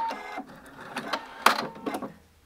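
A sewing machine runs short bursts of top stitching, producing rapid mechanical whirring and clattering in several quick runs with small pauses between them, close and moderately quiet.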